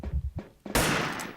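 Gunfire in the online shooter Wolfteam, a broadband burst of shots erupting midway and sustained to the end, preceded by a few soft thuds.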